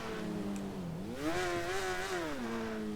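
A motorcycle engine in GTA 5, an MT9 superbike, revs up and holds a steady drone, pitch rising then settling back down, loud and continuous with no talking.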